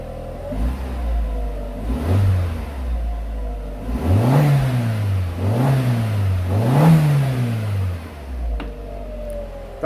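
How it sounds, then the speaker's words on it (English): A 2002 Volkswagen Golf GTI 1.8 turbo with 124,000 miles idles, then gets several short revs that rise and fall in a steady rhythm before it settles back to a smooth idle, close and clear with no talk. "Give it a little rev."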